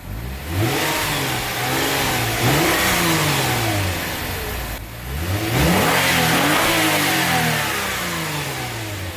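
A Lexus IS250 engine with stock exhaust revs up repeatedly, rising and falling in pitch with a raspy, loud exhaust tone in two long bursts.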